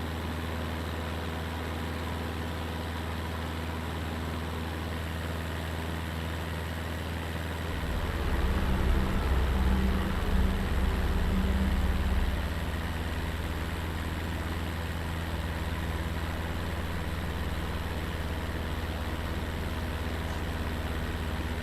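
Steady droning engine inside a small aircraft in flight over Venezuela toward Puerto Ayacucho, a constant low hum that swells briefly partway through before settling back, with no voices.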